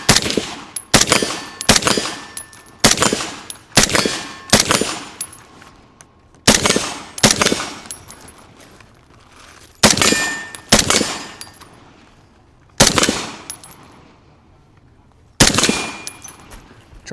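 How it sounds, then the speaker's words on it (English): A Knight's Armament rifle fires a magazine at a steel plate outdoors on a range, a steady string of loud sharp shots, many followed by a ringing metallic clang from the plate. "Let's run another mag through it."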